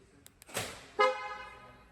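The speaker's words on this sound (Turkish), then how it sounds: "Kornasını çaldı." A car horn sounds once in a car dealership showroom, a short loud toot after some faint clicks and a brief rustle.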